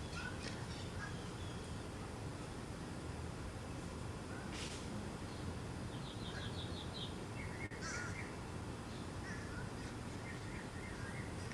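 Scattered outdoor bird calls, mostly parrots, chirp and squawk at a distance over a steady bed of broadband background noise, with short bursts coming and going.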